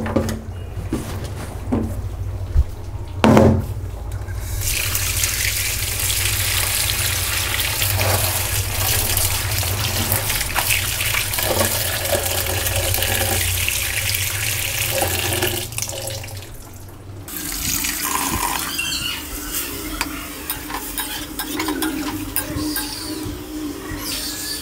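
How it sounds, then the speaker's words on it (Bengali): Malabar spinach leaves being rinsed under a running kitchen tap, a steady close hiss of water filling and splashing in a sink for most of the stretch, briefly dipping once before resuming, with a few small knocks of handling. "এখন হলো পুঁই শাকগুলো ধুয়ে নিব।"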